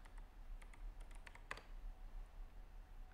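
Soft, irregular clicks of a computer keyboard as a password is typed during a Pop!_OS 24.04 alpha installation, quiet and close, with a few quick keystroke runs and no voices.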